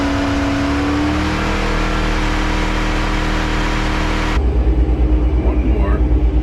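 A car engine revs hard on a chassis dyno at a university auto expo and car show, a loud sustained drone that stops abruptly and gives way to a quieter, pulsing rumble near the end.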